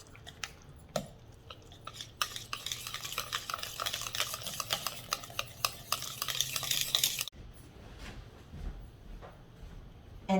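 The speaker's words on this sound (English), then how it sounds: "And now I'm just going to mix everything together." Pumpkin pie filling with pumpkin spice, cinnamon and salt is stirred in a bowl, giving a steady scraping, sloshing mix with utensil clicks for several seconds before it stops abruptly, followed by quieter handling sounds.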